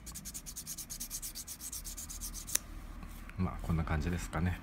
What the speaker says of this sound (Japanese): 研磨の残しがないようにないように注意しながら、こういった形でですね、ヤスリがけをしていくという形ですね。